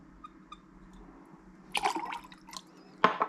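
Persian lime juice poured for a Rongorongo cocktail, a few faint drips followed by a short splashing pour and a second brief gush, close and quiet with no speech.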